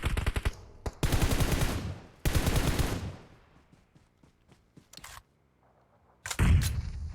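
Rapid bursts of automatic gunfire in the video game PUBG Mobile crackle loudly in long rattling strings, with brief pauses between volleys and one final burst after a quiet gap.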